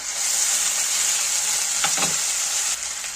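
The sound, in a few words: spice paste added to fried onion, sizzling in pan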